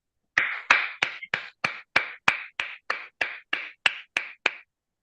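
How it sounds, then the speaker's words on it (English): Thirteen sharp, evenly spaced hand claps from a single person, close to the microphone against silence, like applause in an online meeting. "Please, a round of applause for Toastmaster Chioma."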